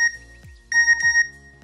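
An electronic notification beep signals an incoming anonymous message in an anime scene: two short bursts of bright tonal chirps, clear and close, with no voices.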